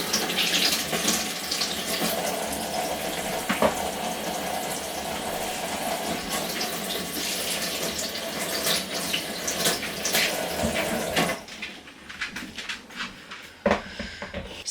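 Apples are washed under a running tap, the water streaming steadily into the sink for several seconds before the flow is cut and a few faint splashes and clinks follow.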